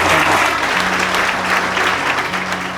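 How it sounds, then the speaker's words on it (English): An audience applauds at a hotel restoration celebration, a dense, loud burst of clapping from a crowd that continues steadily and begins to taper slightly near the end. "Can we give a round of applause"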